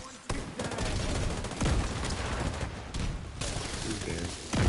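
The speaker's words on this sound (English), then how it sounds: "Grenade launch." A grenade launcher firing in The Division 2 video game on PS5, its blasts thumping out in rapid bursts over a continuous din of gunfire.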